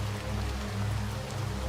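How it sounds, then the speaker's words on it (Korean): Heavy rain pours down on an empty street, a steady dense hiss with no breaks, fairly loud and continuous throughout, with no voices. "빗소리가 다른 모든 소리를 삼킬 만큼 컸다"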